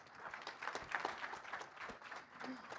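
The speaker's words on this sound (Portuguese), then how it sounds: "Receba uma salva de palmas, Lígia Pereira Blanco" A conference audience claps to welcome a speaker, a soft, fairly distant patter of scattered hands with faint murmuring underneath.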